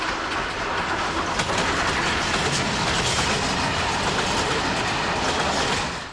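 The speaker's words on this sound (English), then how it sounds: "we make an unscheduled stop at Asporokovo to allow a freight train to pass" A freight train rumbles past close by at Asporokovo, Bulgaria, a loud continuous roar with rhythmic clattering of wheels on rails throughout.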